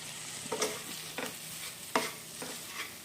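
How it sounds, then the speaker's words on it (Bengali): Sliced tomatoes and five slit green chillies stirred in a pan with spices for muri ghonto, steady soft frying hiss with several short spatula scrapes at irregular intervals, close and moderately quiet. "আর এখন টমেটোগুলো ভালো করে কুক করে নেব"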